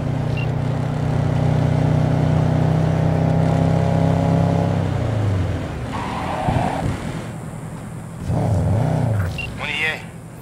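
A car engine drives steadily in the video game Cyberpunk 2077, a loud sustained hum that winds down midway. Brief synthetic effects and voices follow in the second half.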